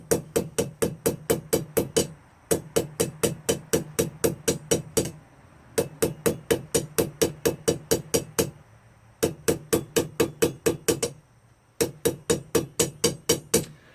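A blacksmith hammers a steel pipe to forge a taper, ringing metallic blows in fast bursts of about a dozen strikes each, separated by short pauses as the pipe is turned, loud and close with no talking.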